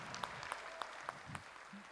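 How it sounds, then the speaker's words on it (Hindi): An indoor audience at an India TV event claps in a faint, thin patter with a few sharper individual claps standing out, heard from a distance with no one speaking. "एक बार जोरदार तालियां, come on everybody."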